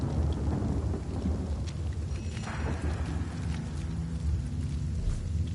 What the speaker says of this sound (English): Drizzle to deluge!